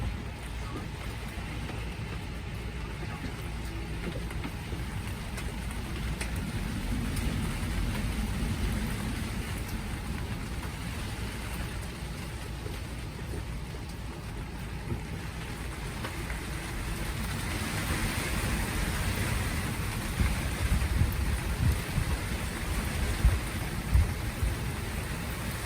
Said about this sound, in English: Here's the rain band.